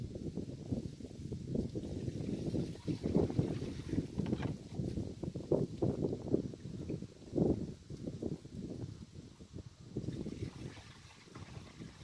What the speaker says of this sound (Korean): 바람이 많이 부네요.